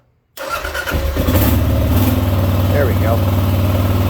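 A 2018 Kawasaki KLR 650 single-cylinder motorcycle with a Leo Vinci exhaust starts up abruptly and settles into a steady, close thumping idle, with a short spoken remark over it.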